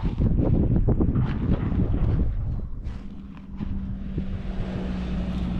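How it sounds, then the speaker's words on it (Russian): Cold morning wind at a roadside overnight camp near a mountain, strong gusty buffeting against the microphone, loudest early on and then easing into a steadier rush with a faint low hum beneath. "Утро такое ветреное, холодное сегодня."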